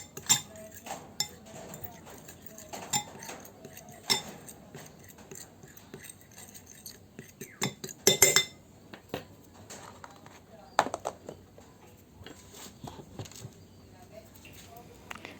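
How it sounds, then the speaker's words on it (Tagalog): Chicken marinade ingredients being mixed in a bowl with a utensil, producing scattered light clinks and taps against the bowl at irregular intervals, fairly faint and close. "haluin lang natin itong mga ingredients"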